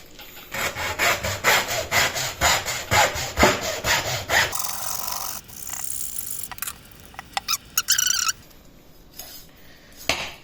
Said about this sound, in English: we're going to move back to the hacksaw so we can remove the spine